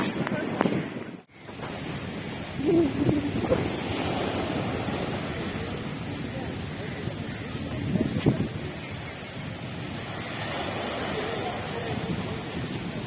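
Indian Ocean waves wash onto a beach at Kochi in a broad, continuous surf roar mixed with wind buffeting the microphone, with a sharp handling bump near the start and faint voices in the background.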